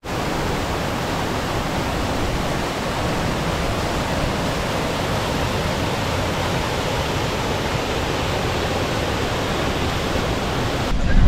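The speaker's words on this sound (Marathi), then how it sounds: "हा पानवडी धरणातून खाली पडणारा धबधबा" Waterfall pouring down from Panwadi dam beside a road near Kaldari, Purandar: a steady, dense, broadband roar of falling water, close and continuous throughout with no voices.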